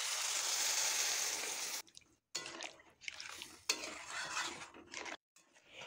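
Water poured into a pan of spiced dhoka curry: a loud, rushing pour first, then broken stirring, clinks and bubbling with short silent gaps, close by and no voices.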